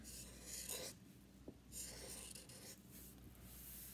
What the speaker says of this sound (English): I'm even going to draw on its head